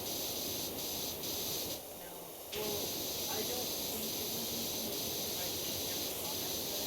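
A pressure washer in the video game Powerwash Simulator sprays a steady, hissing jet while cleaning a fence in a forest. The spray breaks off briefly partway through, then resumes at moderate loudness.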